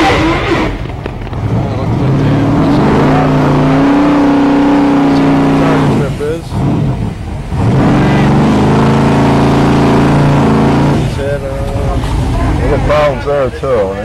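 A fire truck engine running in pump gear at a charity fire drill in western New York, a loud, steady mechanical drone that rises and falls in pitch, with an announcer talking over it throughout.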